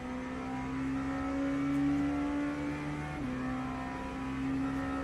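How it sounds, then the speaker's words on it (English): An LMP2 prototype race car engine in a racing video game holds a steady, fairly quiet tonal drone that dips slightly in pitch partway through, heard alone without talk. "This is an LMP2 car."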